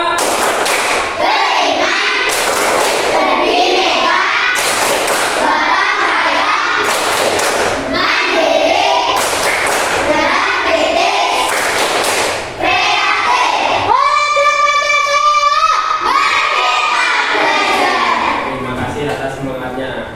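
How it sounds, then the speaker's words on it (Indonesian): Students clap in rhythm to the tepuk pelajar Pancasila chant in a classroom, loud sharp claps in patterned groups mixed with children's chanting voices throughout. "Mari kita gelorakan tepuk pelajar Pancasila."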